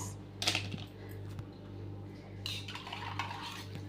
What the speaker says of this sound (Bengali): গুলছে, লস্যিটা গুলছে।